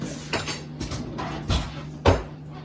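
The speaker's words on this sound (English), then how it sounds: "going to stir this often until it's thick" A spoon stirs a flour mixture in a pot, giving a handful of soft scrapes and light metallic clinks against the pan at an uneven pace, close and quiet.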